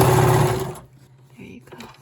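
A vintage blue Deluxe zig zag sewing machine with cams, model 6100, stitching in a close, loud mechanical whir that lasts under a second before stopping, followed by quiet room sound and a faint voice.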